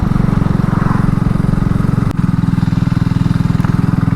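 A 2022 BSA Gold Star single-cylinder motorcycle cruises in third gear through town, its engine thumping in a steady, loud, deep rhythm close to the mic, with one brief knock partway through.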